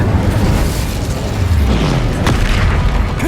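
The Incendio fire spell in Hogwarts Legacy lets out a loud, sustained booming, roaring burst of flame that fills the moment, dense and continuous, with no voices.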